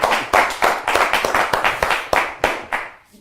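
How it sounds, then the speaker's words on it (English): Audience applause with bursts of clapping rings out after a card trick at a live magic lecture in a studio, steady and fairly loud for about three seconds before trailing off. "hopefully you get a thunderous round of applause"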